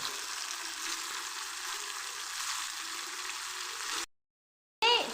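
Fish pieces fry in hot oil in a kadai, giving a steady, close hiss of sizzling that breaks off briefly near the end and then picks up again.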